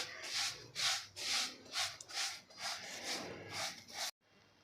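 Coarse grain being dry-roasted with fennel seeds in a pan, a rhythmic scraping and stirring rasp in repeated strokes, close, ending abruptly.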